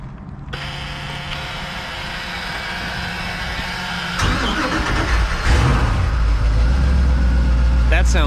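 A Crusader 8.1 marine engine is cranked and catches, rising into a loud, steady running drone that steps up in level midway, with people talking over it.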